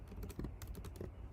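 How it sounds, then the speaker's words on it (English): Rapid, uneven keystrokes on a computer keyboard, close and fairly quiet, in a short burst of irregular clicks with no talking. "Why can't I type today?"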